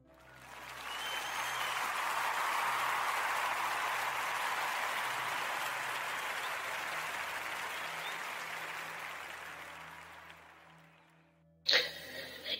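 A radio podcast audience breaks into sustained applause that swells, holds steady for several seconds, then fades out before a brief sharp noise at the end.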